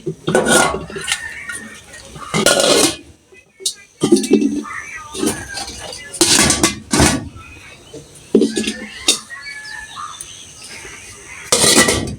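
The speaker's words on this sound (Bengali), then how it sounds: "থালা বাটি যা ছিল সেগুলো ধোয়া হয়ে গেছে এখন এগুলো আমি করে দিকে রাখবো" Freshly washed plates and bowls are stacked and put away, with loud close clatters and clinks of dishes and metal coming in bursts between quieter gaps, and faint background sounds.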